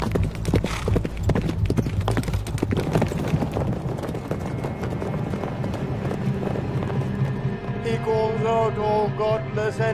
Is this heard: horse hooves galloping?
yes